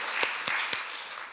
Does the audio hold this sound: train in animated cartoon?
no